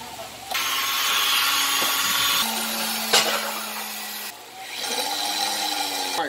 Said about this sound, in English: I'll be able to drill all the way through